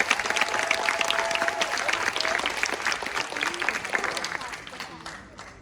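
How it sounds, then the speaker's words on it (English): Audience applause at the Saigon Literary Art Festival, a broad patter of many hands clapping that starts strong and fades gradually toward the end, with voices faintly mixed in. "let's give a round of applause to each and every one of you one more time for being here today"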